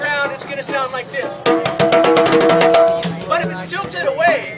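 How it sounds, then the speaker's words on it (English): Hand drum lying flat on the ground, played at a drum circle, giving a run of quick, dense hand strikes with a rattling, ringing texture that builds into a fast burst before easing off, fairly loud and close. "If the drum is flat on the ground, it's going to sound like this."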